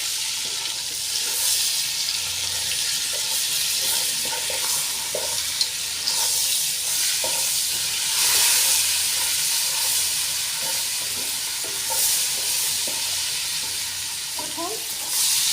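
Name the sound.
shrimp frying in oil with spices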